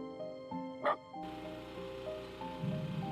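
Dogs bark and yip in a wholesome video game shown at a showcase stream, a few short high barks over soft game music, fairly faint and brief.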